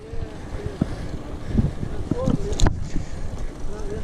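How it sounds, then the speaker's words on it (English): Gusty wind buffets the microphone during a trail bike ride through a nature reserve, a steady rumbling roar broken by a few knocks and scrapes, with faint voices underneath. "I think the wind died down quite a bit."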